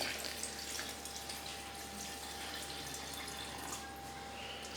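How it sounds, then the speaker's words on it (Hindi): Cold water poured from a container into a blender jar for a lemon and mint juice, a soft steady splash and trickle heard faintly at close range throughout. "अंदर डालूंगी पानी, ठंडा पानी लिया हो मैंने।"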